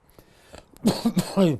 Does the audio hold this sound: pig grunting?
no